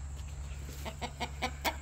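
A chicken clucks in a short run of about six evenly spaced clucks that grow slightly louder, set against a steady low hum, with no voices.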